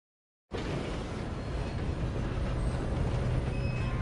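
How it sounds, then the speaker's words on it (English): A moving train in the video game Red Dead Redemption, a loud continuous rumble and rattle of wheels and cars that starts abruptly and holds steady throughout, with no voices. "Come on, we need to stop this train."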